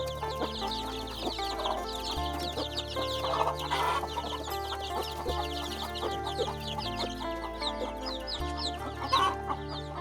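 Caged chickens in a Hmong hill village cluck steadily with occasional louder calls, heard close and continuous, layered over a low, steady hum.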